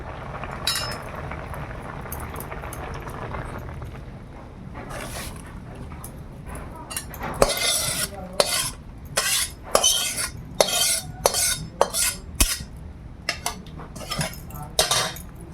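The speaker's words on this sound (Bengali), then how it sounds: "সিদ্ধ হয়ে গেছে, এবার ছেঁকে নেব।" Boiled banana stem being strained in a metal pot in a village kitchen, with repeated clinks and scrapes of utensils against the pot, growing louder and busier in the second half; no talking.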